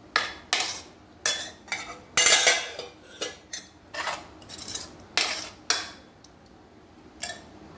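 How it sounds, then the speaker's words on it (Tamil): A spoon clinks and scrapes against a bowl, mixing yogurt into ash gourd pachadi, in a series of short, sharp strokes at an irregular rhythm, close and fairly loud, with no talking. "தயிர் சேர்த்துக்கோங்க நல்லா மிக்ஸ் பண்ணிக்கோங்க"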